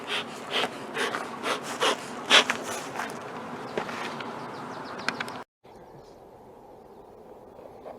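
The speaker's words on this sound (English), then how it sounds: "We'll get our bees off this here." Honey bees buzz around an opened brood box while nucs are being made, with scraping and wooden knocks from handling the hive frames over the hum. The sound drops abruptly to a quieter background buzz near the end.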